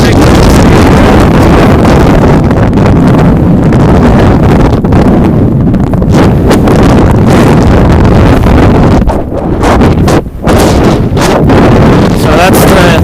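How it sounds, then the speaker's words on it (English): A strong 18 mph headwind buffets a moving boat, a loud, continuous roar of wind noise over the microphone mixed with engine and water rush. "So that's the 18-mile-an-hour headwind you're hearing."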